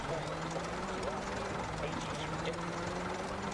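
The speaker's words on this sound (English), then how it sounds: "And I can barely hear Nicky over the sound of the broken car." A damaged rally car with a broken turbo in the racing game Dirt 4 gives a steady, droning engine hum with a faint whine, continuous and fairly subdued throughout.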